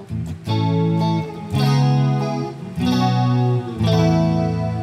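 Guitar tone from an M-VAVE Cube Baby built-in effect voiced to mimic an acoustic guitar: full, ringing strummed chords in several sustained bursts, loud and close with no talking.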